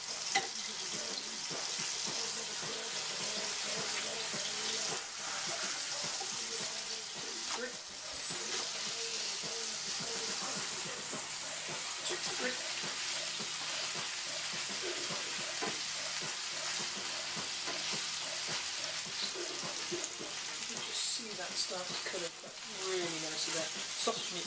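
Pork burgers sizzle in a frying pan, a loud continuous hiss of frying fat running throughout with occasional scrapes and stirring, while a person talks over it intermittently.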